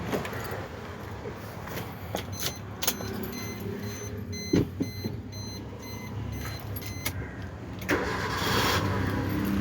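A used petrol car's engine cranks and catches on the first attempt, followed by a steady idle close by, with a few sharp clicks and rattles mixed in.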